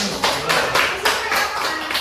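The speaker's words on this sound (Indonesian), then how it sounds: "Tepuk tangan buat aku sendiri ya." A few slow, separate hand claps, close and loud, come at a steady, roughly quarter-second beat, as if one person is clapping alone.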